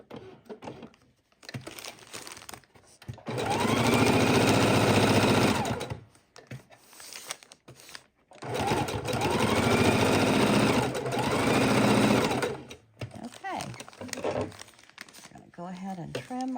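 A sewing machine stitches gold thread around a buckle appliqué in two loud, steady bursts of buzzing motor whir, with quieter gaps and a voice talking between them.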